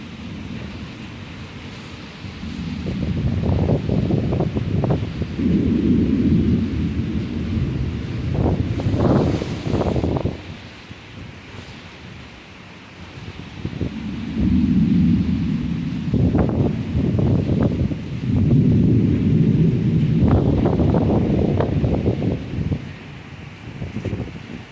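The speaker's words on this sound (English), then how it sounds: "You can see the rain coming down from the hill up there." Severe thunderstorm with wind and rain at night: a steady, loud roar of gusts and downpour that swells in waves, with deep rumbling surges and no voices.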